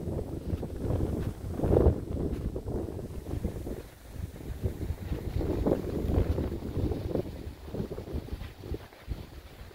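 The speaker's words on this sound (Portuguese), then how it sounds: "Frio esse vento" Steady cold wind buffeting the microphone outdoors in Wakayama Prefecture, Japan, a low rumbling roar with gusts that swell and ease, no voices.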